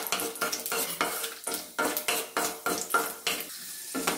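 Cashews frying in a spoonful of ghee in a kadai, with repeated stirring and scraping of a spoon against the pan in a steady rhythm over a continuous close sizzle, no talking.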